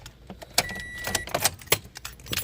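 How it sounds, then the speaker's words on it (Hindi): Car keys jangle in a Toyota Corolla's ignition as the key is turned off, a few close metallic clinks and rattles in short bursts over quiet cabin background. "गाड़ी चाबी करते हैं ऑफ।"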